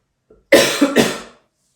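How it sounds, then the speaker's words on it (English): A single close, loud dry cough from eating peanut butter, in two or three quick bursts, preceded by a faint intake of breath. "Dry peanut butter cough."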